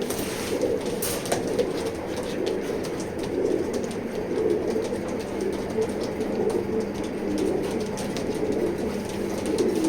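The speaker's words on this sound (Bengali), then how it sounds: "প্রত্যেকটা কবুতর অ্যাক্টিভ কবুতর" Pigeons in a racing pigeon loft coo softly and repeatedly, a low rolling murmur from several birds close by, with light rustling and scattered taps throughout.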